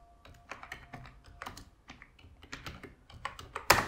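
Someone types a search for a color palette on a computer keyboard. Close, irregular bursts of key clicks end in a sharper, louder keystroke, with no talking.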